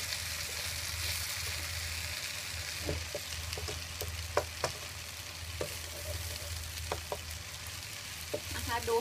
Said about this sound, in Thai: ก็จะใส่ไข่ลงไปนะคะ